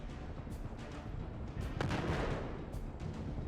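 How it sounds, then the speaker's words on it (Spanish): Battlefield 6 gunfire comes as a few sharp cracks over a rumbling wash of battlefield noise, with one louder shot standing out near the middle. "Eso fue un disparo."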